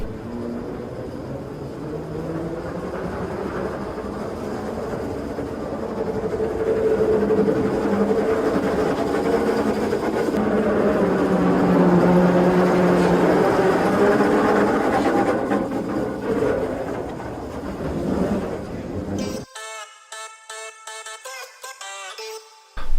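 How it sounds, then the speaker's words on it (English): Industrial ambience drones with a steady, heavy rumble that swells through the middle, then gives way to a choppy, gated tonal texture near the end, loud throughout with no voices. "All I have is an industry sound that sounds like this."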